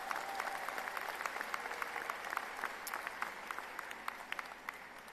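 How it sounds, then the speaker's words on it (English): Applause from the audience at a university graduate commencement ceremony for a college of science and health, a steady spread of many hands clapping at moderate distance, sustained for several seconds with no talk over it. "Yeah, that deserves some applause."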